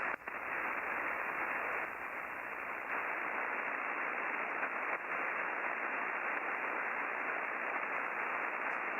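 Steady, dense static on the 40-meter amateur radio band hisses for several seconds, loud and unbroken, with faint clicks and no voices.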